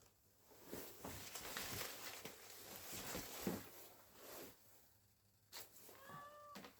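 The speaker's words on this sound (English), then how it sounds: "Oh, my cat's here." A domestic cat meows indoors, a couple of short rising meows near the end after a stretch of rustling handling noise, moderately close and without talk.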